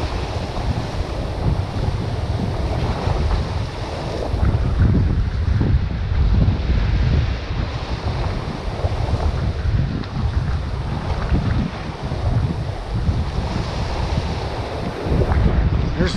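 Strong wind gusting steadily on the Oregon coast during rock fishing from shore, roaring across the microphone over crashing surf, loud and continuous with no talk.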